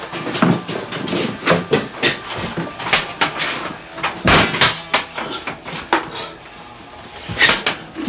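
Knocks and thuds at a door, irregular and fairly close, mixed with clattering and rattling like pots or hardware, with no voices.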